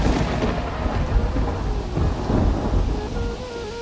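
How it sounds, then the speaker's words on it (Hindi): Heavy rain pours through a forest with deep rolling thunder rumbling underneath, a dense continuous wash of sound at steady loudness with no voices. "जंगल में अंधेरा था और हर तरफ पानी की आवाज गूंज रही थी।"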